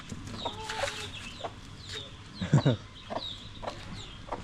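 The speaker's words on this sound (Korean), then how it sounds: "뭔 닭이 막 돌아댕겨? 바깥에?" A chicken wanders around outdoors on a Gili island path and clucks in short, scattered bursts, fairly near, over light ambient noise with brief human voices.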